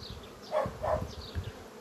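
Honey bees at a hive buzz softly and steadily, with a couple of louder swells as individual bees pass close.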